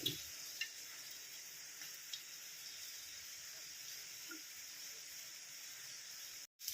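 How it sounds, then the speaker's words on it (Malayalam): Anchovies for pickle fry in spice paste in a pan, giving a steady soft sizzle and hiss with occasional faint stirring scrapes, no voices, cutting out briefly near the end. "നമ്മുടെ അരപ്പൊക്കെ റെഡി ആയിട്ടുണ്ട് അതിലേക്ക് നെത്തോലി ഇട്ട് കൊടുക്കാം"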